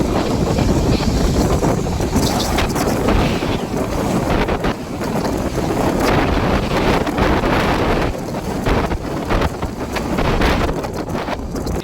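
Bandra Terminus–Amritsar Golden Temple Mail, train 12903, approaching as a loud, steady broadband rumble with heavy wind buffeting throughout, no voices.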